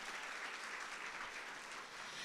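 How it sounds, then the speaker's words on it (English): Seminar audience breaking into a round of applause, a steady dense wash of clapping that holds evenly throughout, fairly quiet and distant-sounding. "Give them a big round of applause"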